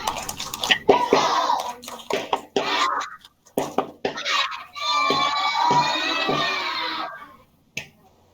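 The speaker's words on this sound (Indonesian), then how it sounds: "Coba tepuk semangat." Young children doing a rhythmic spirit clap during an online story time, bursts of patterned claps mixed with a voice and children chanting.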